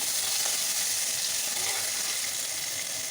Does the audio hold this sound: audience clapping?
no